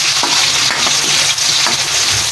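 Onions sauté in a hot pan, giving a loud, steady sizzle broken by scraping stirs and light clinks of a utensil against the metal, close up with no voices.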